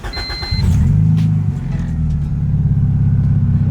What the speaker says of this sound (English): you guys can hear the fuel pump priming